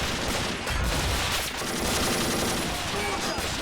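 Heavy .50 caliber machine gun fire in the Army Men game, a dense, continuous rattle of gunfire across a battle scene with background noise, steady and loud throughout.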